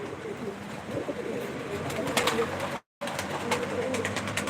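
A crowd of pigeons cooing steadily and close by, a dense continuous murmur of calls with a brief drop to silence midway.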